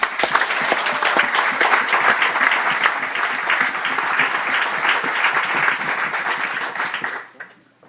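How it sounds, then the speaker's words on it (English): Wedding guests at an evening reception give a big round of applause, dense, loud clapping from many hands that carries on for about seven seconds before tapering off quickly. "So we give a big round of applause to them."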